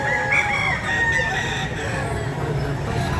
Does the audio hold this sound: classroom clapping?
no